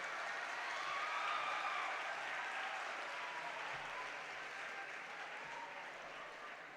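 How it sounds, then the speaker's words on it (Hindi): Loud, sustained applause from an audience at a seminar-style gathering, a thick steady wash of clapping that fills the room and tapers slightly toward the end, with no talking over it. "एक बार जोरदार ताली हो जाए इन वर्किंग कमेटी के मेंबर्स के लिए।"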